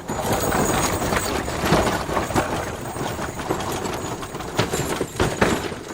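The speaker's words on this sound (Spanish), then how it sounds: "Acto seguido empleó el largo látigo y los caballos partieron a galope." Horses gallop while pulling a carriage, their hoofbeats a dense, continuous clatter with rolling noise, loud and close throughout, with no voices.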